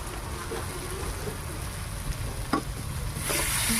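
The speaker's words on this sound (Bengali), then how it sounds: "এবার এটাকে ভালো করে কষে নিয়ে আর জল দিয়ে দেবো।" Fish and eggplant frying in a pan with turmeric and chili powder for a spicy fish curry, giving a steady hissing sizzle like light rain, with a few faint stirring knocks and a brief louder crackle near the end.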